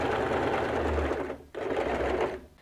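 Sewing machine stitches recycled denim into a binding in a close, steady mechanical whir, running continuously with a brief pause midway and slowing near the end.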